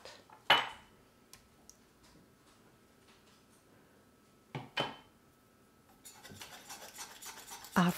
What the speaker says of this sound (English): That's how I clean up my jam pot.